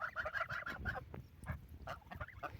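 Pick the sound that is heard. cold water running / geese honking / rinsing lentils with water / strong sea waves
geese honking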